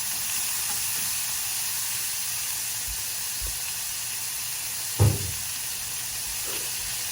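Pork tenderloin and carrots sizzle in a skillet, a steady broadband hiss throughout with occasional soft clinks and one brief louder knock near the end.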